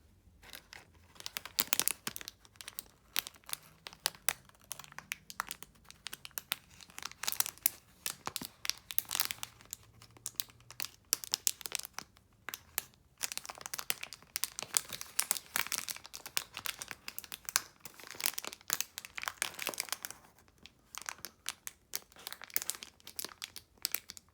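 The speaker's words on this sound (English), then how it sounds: "I'm going to try and record the rustling of that bag" A plastic bag is crumpled and rustled up close for a fire sound effect, producing dense, crackling crinkles in irregular bursts and flurries that continue throughout, with no talking.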